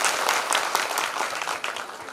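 A crowd at a Shiv Mahapuran religious discourse in a village assembly claps together in dense, sustained applause that is fairly loud and steady, then tapers slightly.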